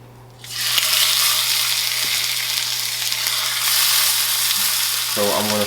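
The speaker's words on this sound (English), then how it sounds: "So I'm going to sear each side for 1 minute." A loud sizzle erupts as red snapper hits a hot frying pan and keeps searing steadily, with a low hum underneath and a brief clatter near the end.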